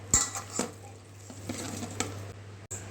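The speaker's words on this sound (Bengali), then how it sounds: "এবার আমি একটা স্টিলের ডিশ দিয়ে এটা ঢেকে রাখলাম" A steel dish set down over a bowl of marinated chicken for malai kabab, giving a few close metallic clinks and clatters with quiet handling noise between them.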